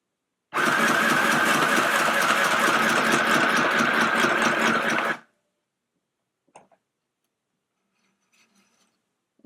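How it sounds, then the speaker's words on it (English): A cheap beginner mini sewing machine stitches through fabric folded into several layers, giving a loud, steady mechanical whir that runs about four and a half seconds alone, then stops, leaving near silence with a couple of faint clicks. "Let me fold it in half and we will see if it'll sew at least 2 layers, and maybe I'll do 4"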